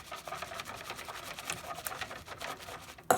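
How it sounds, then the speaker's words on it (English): Spoon stirring milk vigorously as it heats in a pot while powdered milk goes in, a steady quiet run of scraping, tapping strokes for a few seconds, with a sharper knock at the very end. "I've decided to put my powdered milk in now as the as the milk is heating up, and vigorously stirring it now."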